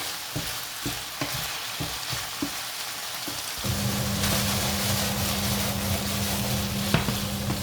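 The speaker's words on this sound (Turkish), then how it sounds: "sarımsaklarımızı iyice kavuralım" Garlic sizzling and frying in a hot pan for a chicken and vegetable stir-fry, a steady crackling hiss that grows louder partway through, with a few light stirring scrapes early on.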